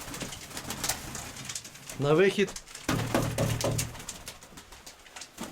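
A pigeon coos in a low, throaty burst, then again shortly after, while a person speaks briefly nearby in Ukrainian.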